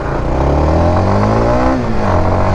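A Honda RSV2 motorcycle fitted with an ECUshop full-standalone ECU revs hard on a test ride, its loud engine note climbing steadily, then dipping briefly at a gear change before pulling again.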